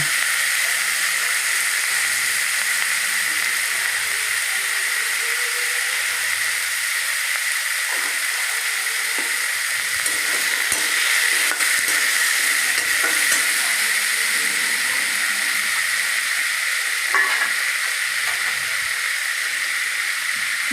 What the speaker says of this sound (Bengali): পেঁপের টুকরো দিয়ে দিলাম দিয়ে আবার ভালো করে নাড়াচাড়া করে নিচ্ছি মশলার সঙ্গে